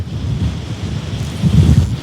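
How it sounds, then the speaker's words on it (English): Wind buffets the microphone on a snapper fishing boat with a low, steady roar that swells toward the end, with a hint of water movement beneath. "did I tell you it's a windy one, Milan?"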